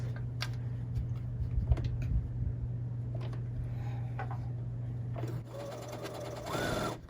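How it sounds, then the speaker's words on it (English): A sewing machine stitches quilt block fabric, its motor humming steadily with rapid needle ticking close by. It stops briefly and then starts again near the end. "we're just going to stitch it like we would a normal block"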